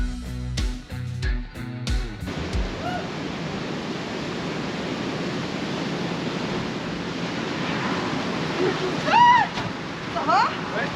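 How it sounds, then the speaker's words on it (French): Steady wind blowing hard outdoors at a building site where wall panels and rails are being fitted, a loud continuous rushing that fills the whole stretch after a few brief knocks, with faint voices now and then. "Ah, puis le vent il pousse, hein."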